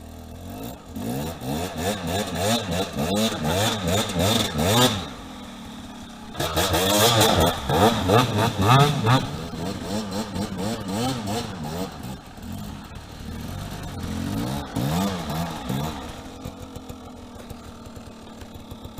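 A KTM 300 EXC two-stroke enduro motorcycle revs hard and close, its engine climbing and falling in repeated bursts with a short drop in the middle before winding up again, loud throughout.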